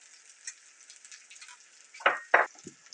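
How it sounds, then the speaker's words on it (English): Garlic and salmon pieces sizzling in hot oil in a pan, a quiet steady crackle with a few louder bursts of frying as the food is stirred near the end, no talk. "Kind of move it around the pan. Make sure everything's getting cooked in the oil."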